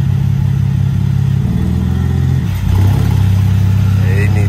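A BMW E46 drift car engine revving loud and close, with a steady drone that drops off around a gear change and then climbs again on a higher pitch, a voice talking briefly underneath.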